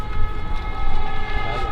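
Car horns honk in celebration after France's 2-0 win, blending into a steady, sustained blare of tones that holds fairly loud throughout with no clear breaks.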